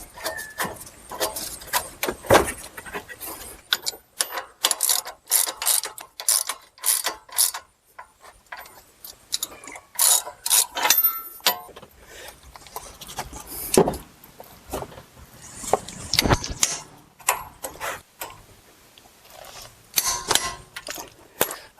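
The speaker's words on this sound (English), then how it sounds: "then we'll tighten both of these bolts" A ratchet clicks in quick bursts while tightening caliper bracket bolts on a Chrysler Town & Country, close and sharp, with pauses between runs of rapid pawl clicks and no voices.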